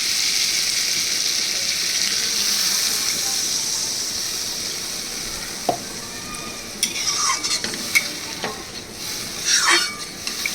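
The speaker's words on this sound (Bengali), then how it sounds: "আমি এবার এর মধ্যে দিয়ে দিচ্ছি জল" Water added to oil-released fried spice paste for a thin fish curry, a steady loud sizzle and hiss that later breaks into bubbling and scattered clatter as it settles.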